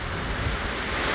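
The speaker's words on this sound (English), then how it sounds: "And because it's quite windy," Strong wind buffets the microphone at the seashore on an East Devon fishing beach, a steady loud roar of gusts and surf with no talking.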